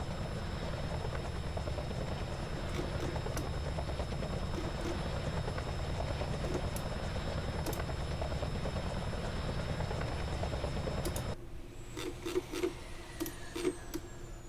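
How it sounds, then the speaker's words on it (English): Two helicopter engines in Kerbal Space Program drone with a dense, steady rotor whir, then cut out abruptly near the end, leaving faint ticking and tonal whines behind. "We've got two of the helicopter engines."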